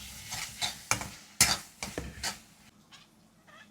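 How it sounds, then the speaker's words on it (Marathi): Onion, tomato and ginger-garlic paste frying in hot oil in a pan, a short run of stirring scrapes and spoon clinks over a soft sizzle that fades toward the end. "तर कांदा टोमॅटो चांगला फ्राय करून घ्यायचा आपल्याला"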